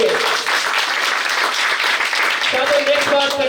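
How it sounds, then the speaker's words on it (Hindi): An audience at a direct selling business seminar bursts into loud, sustained applause, dense clapping filling the room from start to end with a voice rising faintly near the close. "तो जोरदार ताली डायरेक्ट सेलिंग के लिए"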